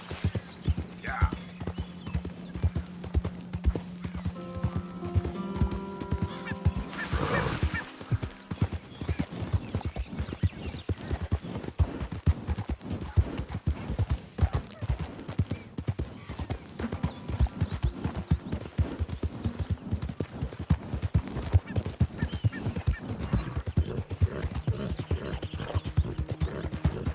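A horse in Red Dead Redemption 2 clip-clops steadily and continuously, loud and close, with a brief whinny-like burst and someone speaking briefly over the hoofbeats.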